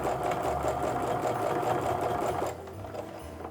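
A sewing machine runs steadily stitching down the edge of a canvas apron strip, a close continuous mechanical whir that cuts off abruptly near the end, leaving a quieter hum.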